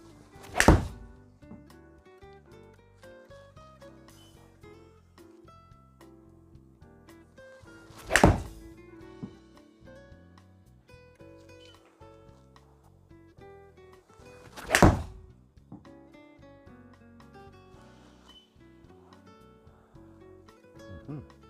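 Three loud, crisp impacts of a Yamaha RMX VD40 iron striking golf balls, spaced several seconds apart, with quiet background between them.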